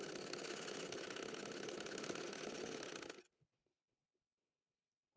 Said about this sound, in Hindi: और इसी तरह से हम इसकी पूरी सिलाई लगाएंगे।